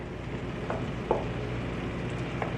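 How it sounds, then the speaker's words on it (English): Boiled basmati rice is mixed with vegetables on a hot tawa under a faint, steady sizzle, broken by a few soft taps of the spatula. "go ahead and mix all of this well with the rest of the veggies"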